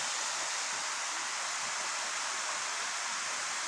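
River water rushing steadily at a fishing spot, a broad, even hiss of flowing current filling the whole stretch with no talk over it.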